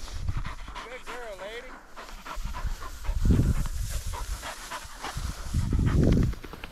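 Dogs pant heavily outdoors in Montana grassland after a bird hunt, with rapid breathy puffs in bursts near the microphone and a person talking over them.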